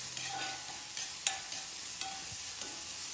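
Food sautés in a pan, a steady close sizzle broken by several sharp scrapes and clinks of stirring spaced about every half second to second, no talking.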